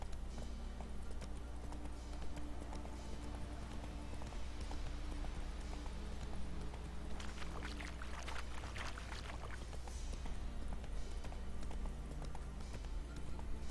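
Roach, the horse in The Witcher 3, gallops with a continuous muffled clatter of hooves over a low steady drone, faint and even throughout, with a brief busier burst midway and no speech.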